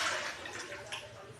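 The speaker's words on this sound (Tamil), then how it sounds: "தண்ணி ஒரு சொம்பு ஊற்றிக்கலாம்." A potful of water pours into a pan on the stove while soya-chunk gravy is being made, giving a continuous splashing rush that fades slightly toward the end.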